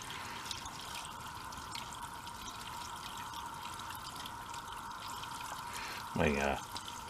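Water poured into the cooling system of a diesel Bobcat Toolcat side-by-side, a brief burst of liquid splashing near the end of a steady background hum.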